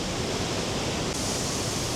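A waterfall in Wicklow roars as a dense, unbroken rush of falling water, loud and close with no other sounds.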